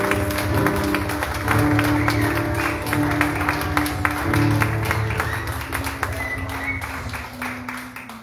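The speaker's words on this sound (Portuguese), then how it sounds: "Você consegue aplaudir, Senhor?" A church congregation claps along in a steady, dense rhythm over sustained worship music, the applause loud and continuous throughout.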